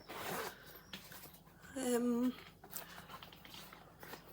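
A short zipper pull on a small pouch rasps for about half a second, with quiet rustling and handling noises around it.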